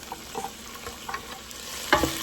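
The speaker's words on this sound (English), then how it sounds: "That way these can go ahead and start sauteing up and getting translucent and soft" Lots of garlic and vegetables sautéing in a soup pot after excess grease has been drained, a soft close sizzle with a few stirring scrapes and one louder clatter near the end.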